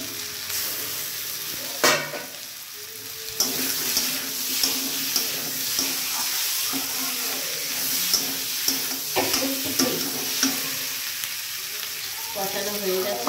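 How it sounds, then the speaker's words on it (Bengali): Water poured into a pan of spicy bata fish curry, a gushing splash over a steady sizzle with occasional clinks of a utensil, close and moderately loud. "কষানো হয়ে গেছে, জল দিলাম।"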